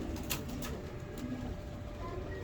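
A balance pigeon coos up close over a steady, even background hiss, with soft repeated throaty pulses and no clear pauses.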